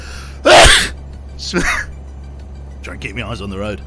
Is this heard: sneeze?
yes